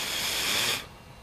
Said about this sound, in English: you can either blow into the stove through the tube itself